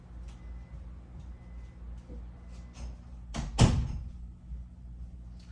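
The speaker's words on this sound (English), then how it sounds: "I gotta go shut my door real quick" A door is pushed shut indoors, its single sharp thud landing after a few faint shuffling sounds, loud and close against a steady low hum.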